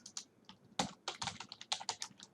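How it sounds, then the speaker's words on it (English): Someone types on a computer keyboard while entering figures into a spreadsheet, quick irregular clusters of close, crisp key clicks with short pauses between bursts. "Boy, my typing is pretty bad."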